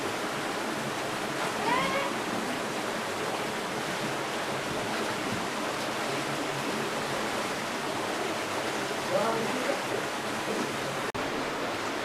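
Continuous broad roar of an underground river flowing through a cave at Leang Panning Park, steady and fairly loud, with faint voices surfacing briefly in the background.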